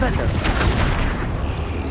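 The Flipendo spell going off in Hogwarts Legacy, a loud, dense blast of booming, crackling combat effects that fills the whole moment without pause.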